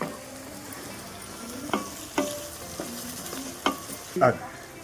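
Onions, green chillies and tomato frying in a pan, with a quiet steady sizzle broken by several sharp stirring scrapes and clinks of a spoon against the pan.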